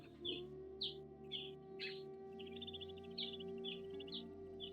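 Birds at the source of the Nile chirp in short, repeated bursts, moderately close and fairly faint, over a steady low hum.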